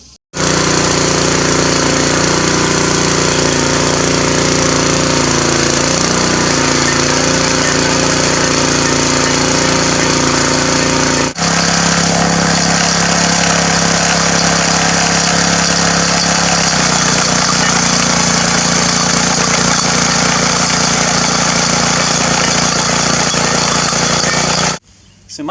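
A riding mower engine with a tiller hitched behind it runs loud and continuous at close range, its drone shifting pitch partway through as the load changes, with faint churning and rattling mixed in.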